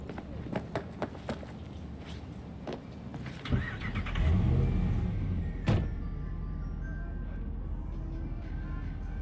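A car in the video game Cyberpunk 2077 starts up: a series of sharp clicks and a door thump, then the engine revs up and settles into a steady rumbling idle as the car gets going.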